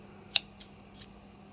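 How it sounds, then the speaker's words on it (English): Big craft-room scissors, their handle sticky with glue, give one sharp metallic snip followed by two faint clicks while being handled, quiet and close with no talk. "So that's my big scissors."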